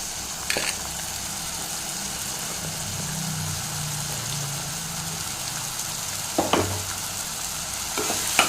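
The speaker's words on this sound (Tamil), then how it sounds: "அதையும் சேர்த்து நல்லா வதக்கி விடுங்க" Steady sizzling hiss from a hot pan sautéing vegetables, including green peas, for veg white kurma, with occasional scraping stirs of a spatula moving food around, no voices.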